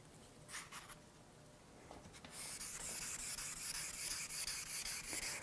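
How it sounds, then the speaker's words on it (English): Wet sanding with P1000 grit sandpaper on the soft side of a sanding block, working a barrel in a luthier's workshop: a few soft scrapes, then continuous close, quiet rubbing strokes in a steady rhythm. "We'll start the wet sanding process with the P1000 grit sandpaper"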